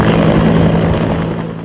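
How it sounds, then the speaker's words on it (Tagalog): A UH military helicopter arrives with supplies, its rotor and engine producing a loud, steady whine and thrum that stays close and constant throughout, with no voices. "Isang UV helicopter ang dumating para maghatid ng supplies."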